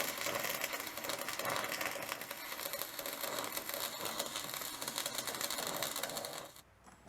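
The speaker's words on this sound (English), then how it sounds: "It's going to be quite a tricky weld, but I'll manage." Continuous crackling buzz from welding a homemade bench vice, a steady sizzling hiss that holds for several seconds before cutting off abruptly near the end.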